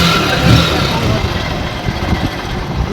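A repaired Bajaj Pulsar 135 motorcycle engine runs steadily close by, a busy mechanical idle with a brief rise early on, while someone talks over it.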